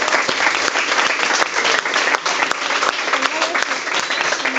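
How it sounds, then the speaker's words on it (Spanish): A school audience applauds after a talk with an illustrator and students, thick, steady clapping that stays loud and even throughout. "Un aplauso enorme."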